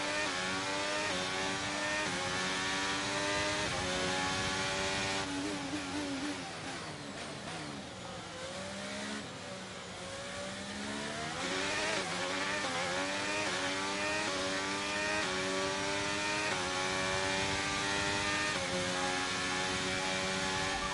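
F1 race car engine in a racing video game, a continuous loud high-pitched whine climbing through gears with rising and falling pitch sweeps, revving hard throughout with no talk.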